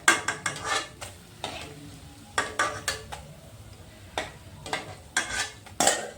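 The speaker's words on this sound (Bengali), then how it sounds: "এইভাবে আমি সবগুলো ভেজে নেব এখন।" Palm fruit fritters (taler bora) frying in hot oil, with a steady background sizzle broken by repeated close scraping and clinking of a utensil against the pan in irregular bursts.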